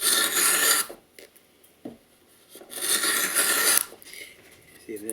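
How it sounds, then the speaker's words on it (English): A hand saw cuts across the grain of pine in rasping bursts: two long, loud strokes separated by quiet gaps, with brief knocks and a faint voice between strokes. "Now we are cutting across the grain, so it's not going to be as smooth as if we went with the grain."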